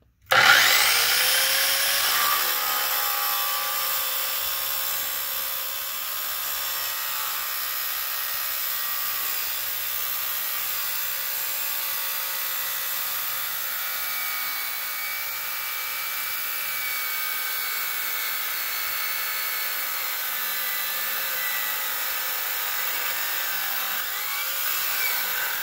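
Drillmaster 6-inch cut-off saw making a 45° cut, a loud continuous high-pitched grinding whine that starts abruptly and holds steady for the whole cut.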